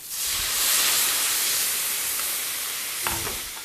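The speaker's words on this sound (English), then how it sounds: "add about a half cup of red wine and cook until the wine evaporates" Half a cup of red wine cooks off in a pan of shepherd's pie filling, giving a loud, broad sizzling hiss that holds steady throughout, with a brief stirring scrape near the end.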